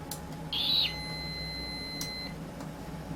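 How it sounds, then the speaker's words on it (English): A Toshiba T1200 laptop powers on with a short electronic beep, followed by a thinner, longer tone, both over a low steady hum and faint clicks. "Well, we got a beep out of it,"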